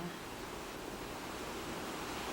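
Heavy surf from large waves breaks against rocks on Long Island Sound as a hurricane passes, a steady broad roar of water and wind holding at an even level throughout with no voices.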